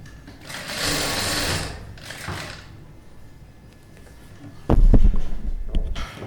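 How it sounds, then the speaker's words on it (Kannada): Sewing machine stitching elastic onto a frilled cloth cap in two whirring bursts, a long run near the start and a shorter one after it, then a pause and some louder handling clatter near the end. "ಫ್ರೀ ಮಾಡ್ಕೊಳ್ತಾ ಸ್ಟಿಚಿಂಗ್ ಅನ್ನೋದು ಮಾಡ್ತಾ ಬರಬೇಕು"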